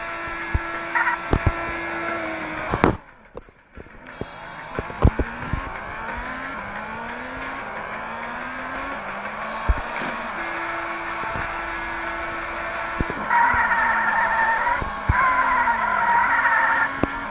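A car skids and revs in an extreme driving simulator game at high speed, with a steady engine hum, rising and falling gear whines and sharp tire squeals running throughout, loud and close.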